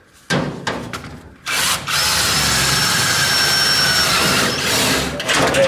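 A power drill bores through the thin sheet metal of a file cabinet in short bursts, then grinds steadily and loudly for several seconds, close up with no talk.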